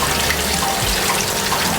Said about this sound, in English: So we're gonna wash the yam now before we boil it, so you can get any loose dirt that will float to the top.